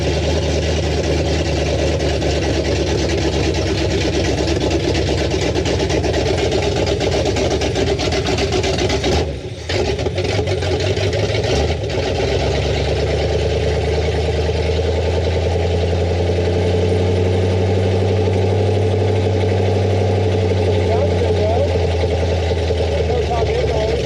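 A heavy farm truck engine, newly installed, idles loudly and steadily, a deep low rumble with a brief dip partway through before settling back into its drone.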